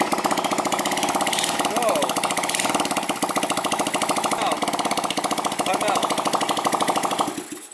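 A tandem scooter's small engine runs hard and loud with a fast, rattling buzz that holds steady and then cuts off near the end, while people shout over it.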